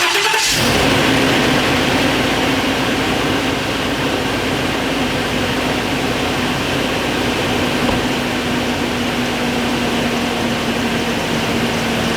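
A car engine cranks with a Gooloo GT4000 jump starter on boost. It catches after a brief burst and then runs with a loud, steady, close hum for the rest of the clip.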